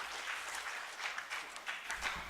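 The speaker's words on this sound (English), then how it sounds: "I request all of you to please give a big round of applause for Justice Deshmukh" Applause from an audience at a formal launch event honoring a justice, a broad wash of many hands clapping steadily for a couple of seconds at moderate distance.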